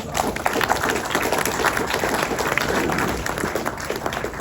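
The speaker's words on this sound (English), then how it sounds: "that deserves a round of applause" Round of applause from a dinner crowd at a champions banquet, dense continuous clapping filling the room at a steady loudness throughout.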